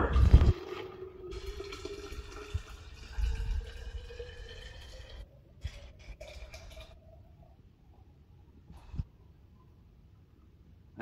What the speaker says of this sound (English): And then all up to 1 liter of hot water.